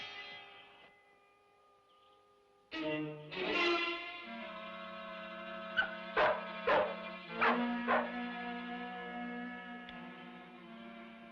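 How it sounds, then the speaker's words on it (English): A dog barking in a few sharp, close yaps in quick succession after a quiet stretch, set against a sustained musical drone in a dramatic period scene. "That dog's barking might have alerted them."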